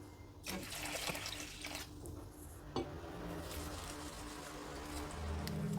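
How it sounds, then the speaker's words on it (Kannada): Water sloshes and swishes in a bowl as soaked lentils are washed, with light splashes and a few clinks, close by and fairly quiet. "ಈಗ ಇದನ್ನು ಒಂದೆರಡು ಸಲ ಚೆನ್ನಾಗಿ ತೊಳೆದ್ಬಿಟ್ಟು ಫ್ರೆಶ್ ನೀರು ಹಾಕಿ ನೆನೆಯಕ್ಕಿಡ್ತೀನಿ"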